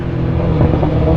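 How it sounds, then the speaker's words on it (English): Deep, rumbling exhaust of a sport motorcycle at a street bike meet in Miami, loud and close, a continuous throaty drone with rough crackling texture and no talk. "I don't know if you guys can hear that popping"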